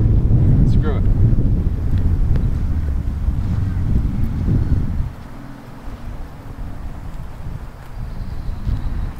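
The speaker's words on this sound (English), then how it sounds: "we'll wait till that wind dies down" Gusty wind buffets an outdoor microphone, a loud, steady roar for about five seconds before easing to a lower rush with occasional gusts.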